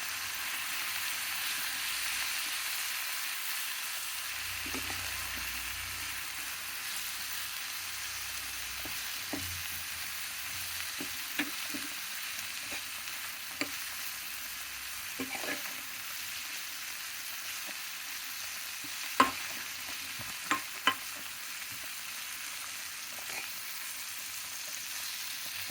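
Amaranth greens stir-fry with ground peanut and garlic powder: a faint, continuous sizzle runs throughout, broken by scattered soft scrapes and a few sharper spatula taps against the pan.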